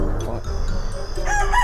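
A chicken in the horror video game Death Park clucks and squawks loudly at close range in a short burst, with game sounds in the background.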